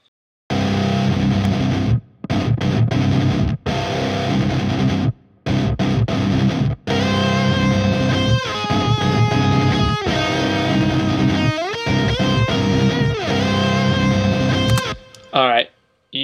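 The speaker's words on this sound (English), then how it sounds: "dual tracked that rhythm guitar, and then I put a lead over it, and this is all the same patch" Heavily distorted metal guitar from a Logic Pro patch, a dual-tracked rhythm part with a lead line over it, plays loud chugging riffs broken by short stops, ending with a brief high run.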